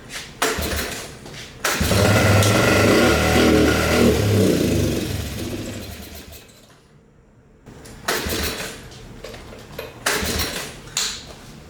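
A barn-find three-wheeler that sat for 25 years cranks and catches, running loudly for a few seconds before dying out, then sputters through brief restart attempts with short bursts of noise.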